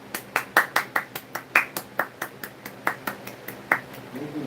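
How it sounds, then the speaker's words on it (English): A few people clap in a sparse, uneven patter of sharp individual hand claps, about a dozen separate slaps spread over a few seconds with no voices, like a small group applauding during a livestream. "Let's give Kung Fu a big round of applause."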